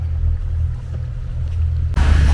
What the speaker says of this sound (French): On a mis à fond les moteurs avec 5 mètres de fond.